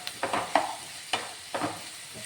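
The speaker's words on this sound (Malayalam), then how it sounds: "ഇനി നമുക്ക് ഇതൊന്ന് വഴറ്റിയെടുക്കണം" Onion masala with salt is sautéed in a pan, a soft sizzle under a handful of distinct spoon scrapes and stirring knocks, close and fairly quiet.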